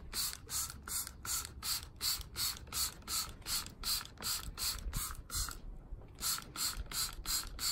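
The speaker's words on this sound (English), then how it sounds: "So I'm gonna pop some fly spray on" A fly spray bottle hisses onto a horse in a steady series of short, rhythmic squirts, close and fairly quiet, with one brief pause partway through.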